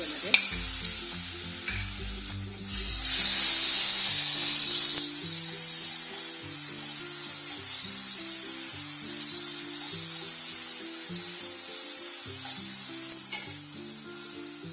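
A ground paste of green chili, garlic, ginger and coriander frying in a pan for kachori filling, with loud continuous sizzling and repeated scraping strokes of a spoon stirring close by.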